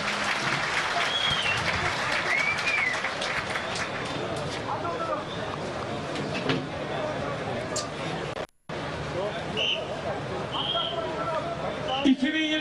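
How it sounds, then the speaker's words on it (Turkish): Big crowd applause at an outdoor oil wrestling event in Kocaeli before the matches, continuous clapping and cheering from a large crowd under babble and shouting, with a brief dropout partway through. "Kocaman bir alkış gelmezse ben de pehlivanları salamam."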